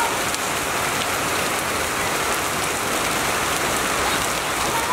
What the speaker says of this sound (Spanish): Cae granizo, pero chiquitito